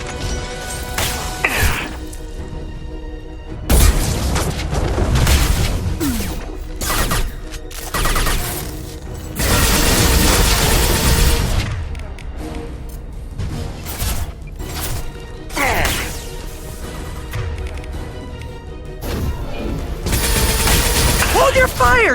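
Biotic shockwave attacks hit in the Mass Effect video game as repeated heavy bursts and crashing blasts. They arrive in uneven clusters over a busy combat soundscape, with voices talking throughout.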